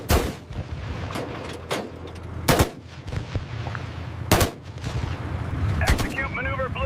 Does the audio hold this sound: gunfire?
yes